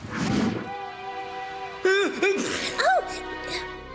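A few short, voiced sneezes from the 2006 cartoon The Likeaballs burst out in quick succession, cartoon-like and fairly loud, over a steady musical background.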